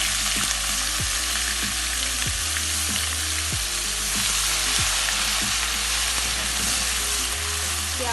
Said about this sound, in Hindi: अब प्याज इसमें मैं डाल रही हूँ